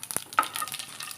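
Whole dried red chillies dropped into hot oil for a Kerala-style raw mango curry, giving a soft, close crackling sizzle with a few sharper pops, brief and alone.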